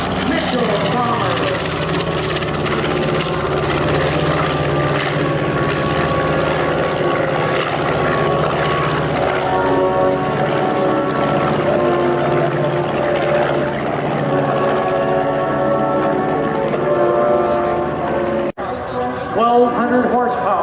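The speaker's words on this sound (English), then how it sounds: "Watch now as Vern turns the aircraft up on the starboard wingtip for the photo opportunity of the B-25 Mitchell bomber" A B-25 Mitchell bomber, a twin-engine propeller aircraft, flies at a 1994 air show in Frederick, Maryland, its loud, continuous droning engine roar with layered harmonics sustained close by for the whole stretch.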